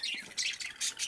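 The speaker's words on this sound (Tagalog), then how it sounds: "tweet sa ilahang nest box." Budgerigars in a nest box give repeated shrill squawks and chirps in short bursts, fairly close and clear with no talk.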